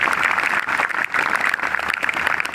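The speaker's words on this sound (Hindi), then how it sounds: "एक बार रेवाड़ी निवासियों के लिए अपने लिए जोरदार ताली बजाओ सभी" Sustained crowd applause from an audience at a Veer Bhagat Singh Yuva Dal public event in Rewari, steady and dense clapping filling the whole stretch without pause.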